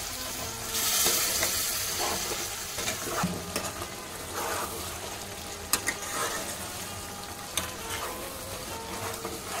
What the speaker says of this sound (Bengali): দেখো বন্ধুরা কত সুন্দর মাংসটা কষে যাচ্ছে